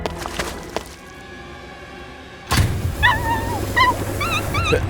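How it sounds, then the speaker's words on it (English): A dog whimpering and yipping in a backyard by a pool, several short high whines and yips arriving after a quiet stretch, fairly close and moderately loud. "Get out of here, you damn dog!"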